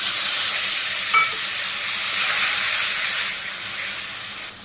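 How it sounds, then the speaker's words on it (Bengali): Onion and green chillies frying with cumin in a hot pan make a loud, close, continuous sizzle and hiss that eases slightly toward the end, with no voices. "এখন এই যে পেঁয়াজ আর কাঁচামরিচ দিয়ে দিন। এই পেঁয়াজ ভাজি হয়েছে"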